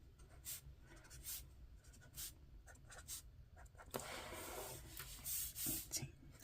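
Soft scratching strokes of Tombow markers, numbers 451 and 312, writing in a bullet-journal planner. The strokes come in short bursts, close and quiet, with one longer, louder rubbing pass near the end.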